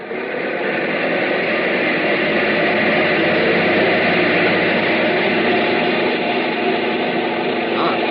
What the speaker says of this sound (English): Bring number one engine up to maximum RPM.